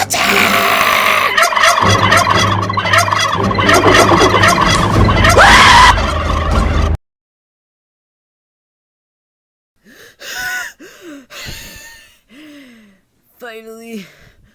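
Turkeys gobble loudly in a chaotic attack scene, a dense burst of gobbling and cries that cuts to silence, followed by scattered gasps and short vocal sounds.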